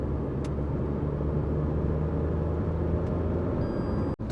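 A Tata Nexon XZA+ car cruising at around 70–80 gives a steady low rumble of engine and road noise from inside the cabin, with a constant hum and a brief dropout near the end, with no talking.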